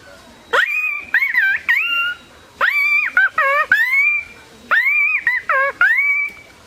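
A person mimics the bou-kotha-kao bird, voicing three clear, close, whistled phrases of rising and falling notes with brief pauses between them.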